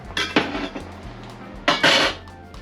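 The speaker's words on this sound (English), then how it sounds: "We lift up, mix in the vegetables right now." Vegetables are tossed in a Heritage Steel wok for a light meatless curry, with metal utensils scraping and clanking against the pan in two close bursts over a low background hum.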